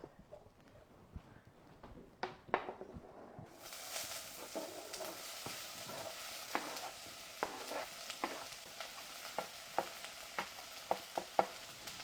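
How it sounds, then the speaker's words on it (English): Chopped onion dropped into shimmering olive oil in a cooking pot, setting off a loud, steady sizzle with crackling pops and occasional stirring clatter that keeps going once the onion goes in. "I'm gonna throw the onion in the pot."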